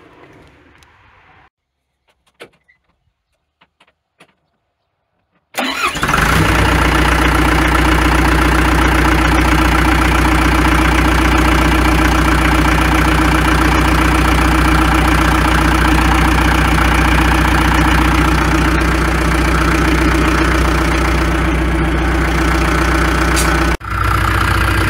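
Diesel engine of a John Deere 310G backhoe cranks and fires after a few quiet seconds of faint clunks, then settles into a loud, steady, rumbling idle up close, with a brief dip near the end.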